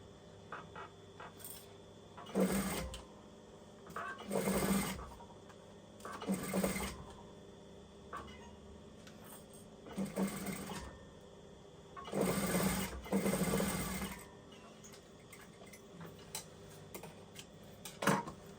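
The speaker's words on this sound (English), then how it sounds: "just running the zipper foot along the side of the zip" Sewing machine stitching with a zipper foot along the side of a zip on a pencil case, heard as several loud bursts of rapid mechanical whirring and clatter separated by short pauses, close up, with no talk.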